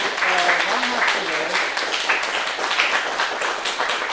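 Audience at a NES ROM hacking workshop applauding steadily, a continuous wash of clapping with a voice briefly heard at the start.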